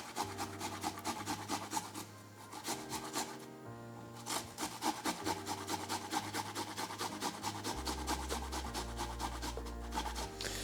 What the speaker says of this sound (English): And we'll get our grater out, my microplane, and then I'll just start grating the ginger.